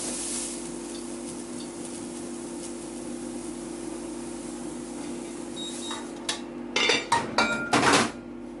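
Food browning in a hot pan gives a steady sizzle and hiss, then clinks and scrapes of utensils against the pan near the end.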